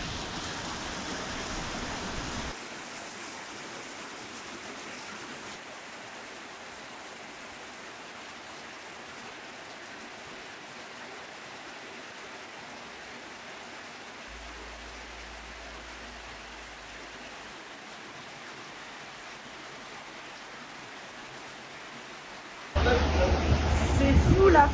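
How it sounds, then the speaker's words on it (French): Heavy rain pours down in a storm in Guinea, a steady dense roar heard from shelter at a hotel, with a louder burst near the end and faint voices in the background. "C'est fou la force de la pluie."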